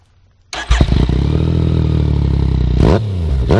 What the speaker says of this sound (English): That is the M4 exhaust without the baffle.